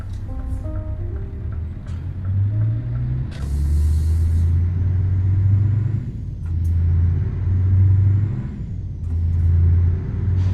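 A simulated truck engine in a truck driving game rumbles low and steady, rising and falling as the vehicle gets rolling, with a brief hiss near the start and loud, close drone throughout.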